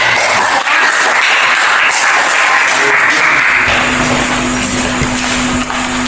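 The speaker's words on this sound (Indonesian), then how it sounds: "Kemudian berikan aplaus." A class audience claps steadily for several seconds, a dense continuous wash of applause in a classroom with a faint hum beneath it and no talking.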